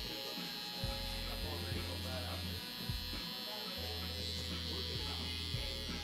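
Electric hair clippers buzzing close by while cutting a burst fade and mohawk fade, a steady nasal hum that shifts pitch as the blades move through hair, heard under someone talking.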